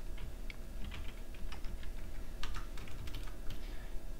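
Quick bursts of typing clatter on a computer keyboard, close and fairly quiet over a low background rumble.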